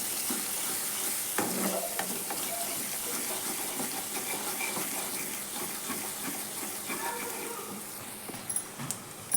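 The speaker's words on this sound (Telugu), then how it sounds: "ఇప్పుడు మనం అందులో కాస్త అల్లం వెల్లుల్లి పేస్ట్ వేసుకున్నాము, అలాగే కాస్త పసుపు. ఈ రెండు బాగా ఫ్రై చేసుకోవాలి" Ginger garlic paste and turmeric frying with onions in a pan for a fish egg fry, with a soft steady sizzle and faint stirring scrapes, a few louder knocks near the end, quiet and close.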